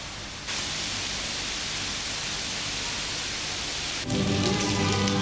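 Tropical rain falls in the cloister of San Francisco in Ecuador, a dense, steady hiss of downpour that swells louder and fuller near the end, with no voices.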